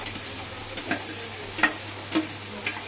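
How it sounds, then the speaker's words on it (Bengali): Grated boiled egg being stirred into mashed eggplant for a Bengali begun bhorta, giving soft scraping and mashing strokes at an uneven pace, close and fairly quiet, with no talking. "এই যে ডিমটা রেখেছি কুড়িয়ে সেদ্ধ করে মেশিনে ঘষে রেখেছি এবার এটা এর মধ্যে মেশাবো"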